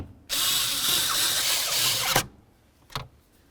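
A power driver whirs steadily for about two seconds as a mounting bolt is run in on a 2006-10 Ford Explorer blend door actuator replacement, stops with a clunk, then a short mechanical click follows.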